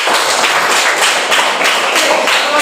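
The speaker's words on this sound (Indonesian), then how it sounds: "mari kita tepuk tangan untuk teman kita Mano" A classroom of students claps together for a classmate after a presentation, a dense, steady round of applause holding at even loudness throughout with no talk over it.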